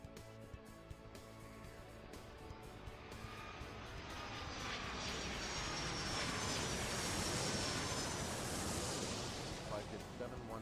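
A jet airliner's engines build steadily in a broad roar as it accelerates down the runway in the Airport Madness 3 air traffic game, growing louder and brighter over about ten seconds, with faint speech beneath.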